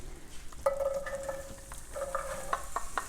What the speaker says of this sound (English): I'm going to go ahead actually and dump in our onions